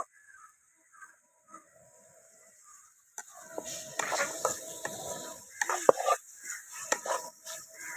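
A spoon stirs salt and turmeric into a cooking pot, giving scattered scraping and clinking knocks against the pot over a steady background hiss, starting after a few quiet seconds.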